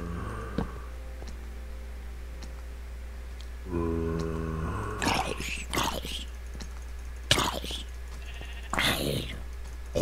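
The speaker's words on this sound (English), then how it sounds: "Sheep." A Minecraft sheep lets out a single wavering bleat partway through, loud against a quiet cave ambience, followed by bursts of soft whispered talk.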